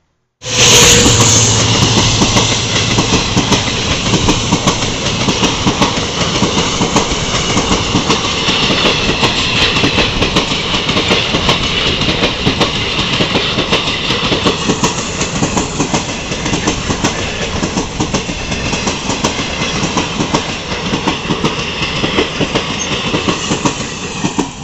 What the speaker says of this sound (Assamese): WDG4 পাৰ্চেল ট্ৰেইন হাই স্পীডত চলি আহি আছে